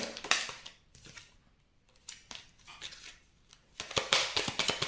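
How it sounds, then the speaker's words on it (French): Tarot-style cards are turned over and laid down to cover them, giving a series of sharp, close papery flicks and slaps, clustered at the start and end with quieter shuffling between. "Alors, je vais recouvrir les cartes négatives."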